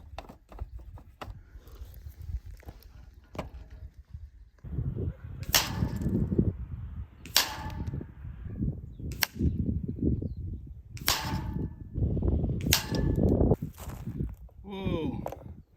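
An Air Arms TX200 air rifle fired at a 50-meter target gives several sharp, separate cracks spaced a couple of seconds apart, standing out over a soft ongoing background rustle and low murmur.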